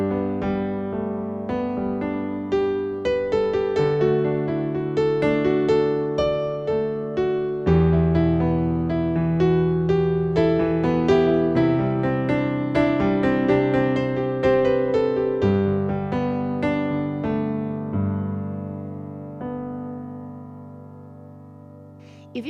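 Piano chords in five-finger-position inversions move through a series of shifting voicings, sustained and ringing into one another at a moderate pace before fading out.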